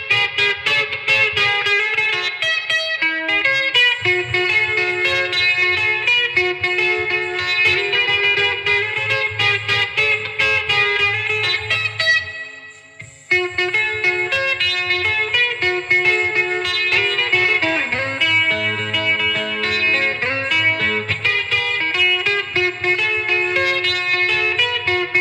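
Electric guitar on a Telecaster bridge pickup through a Supro chorus into a clean amp, playing a song part alone: a bright, steady, shimmering jangle of continuous chords with a brief drop near the middle.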